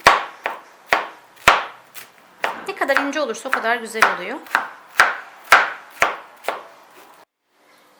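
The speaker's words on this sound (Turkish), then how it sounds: "İncecik kestiğim karnabaharları tekrar kıyıyorum" A knife chops cauliflower rapidly on a cutting board, sharp rhythmic knocks about twice a second, with a person talking over the middle stretch.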